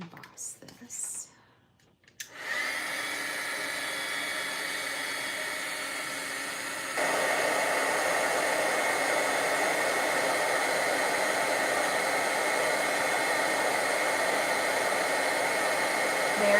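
Heat gun running steadily for craft stamping embossing, a continuous blowing hiss and whir that starts after a brief pause, then grows louder partway through and holds close and strong.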